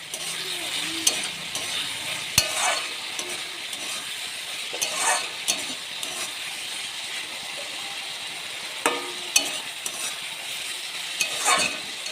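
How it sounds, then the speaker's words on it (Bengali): Mixed vegetables with cashews and raisins fry in a pan with soy and tomato sauce, sizzling continuously while a spoon stirs and scrapes in intermittent sharp knocks. "আর একটু পরিমাণ মতন সয়া সস আর টমেটো সস দিয়েও কিন্তু আমি ভাজা করে নিচ্ছি।"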